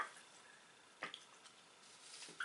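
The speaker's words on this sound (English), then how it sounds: "Fill dropper half full of water and add to section 1." Small drops of water fall from a dropper into a section of a sushi candy kit tray, a few faint soft drips and taps spread over a quiet background.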